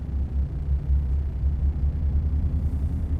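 A Liaz 300S truck engine driven in American Truck Simulator gives a steady, low, rumbling drone that stays even throughout, with no other sounds over it.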